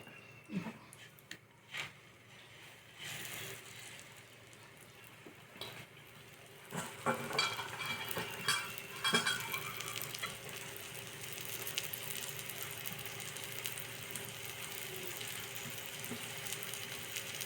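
Sabudana poli frying in ghee in a pan, a quiet, steady sizzle that swells after a few soft clunks and knocks, then keeps crackling faintly and evenly throughout.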